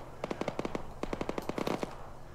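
Rapid bursts of automatic gunfire in a military video game, several short volleys of sharp shots in quick rhythm, moderately distant and fairly loud, with no talking over them.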